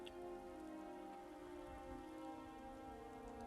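Steady rain falls in Skyrim, a soft, even patter of drops hissing continuously at a faint level, with no talking over it.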